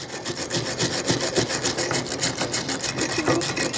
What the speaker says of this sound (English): Get the slag off of it. Brush it a little bit.